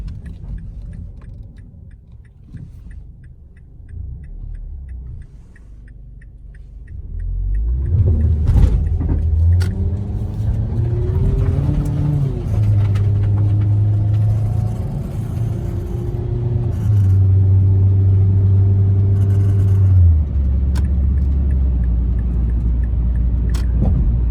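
A 2008 Mazda 3 with a reportedly bad transmission idles quietly, then pulls away with a loud, close engine drone that rises and drops in pitch through several gear shifts, with no talking.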